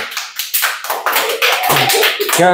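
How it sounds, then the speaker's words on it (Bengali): A group of schoolchildren claps in a steady, dense patter of hand claps for a couple of seconds at a school game, loud and close, with a few voices rising near the end. "সবাই হাততালি"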